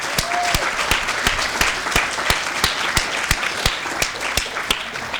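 Sustained applause from an awards-ceremony audience, dense clapping throughout with a few sharper individual claps standing out, no voices.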